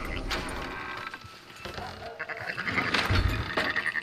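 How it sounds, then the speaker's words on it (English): Sheep bleating in Red Dead Redemption 2, several short nasal calls spread across a few seconds over a busy game soundscape with faint ambient noise. "Fine sheep."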